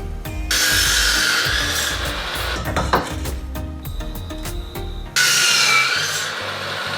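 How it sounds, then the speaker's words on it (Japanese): Inner frame for a folding workbench on a 2-horsepower boat being cut to length, a loud, close, rasping saw sound with rhythmic strokes, pausing briefly midway with a few clinks before resuming. "ここの長さと同じ長さで印をつけて切っていきたいと思います"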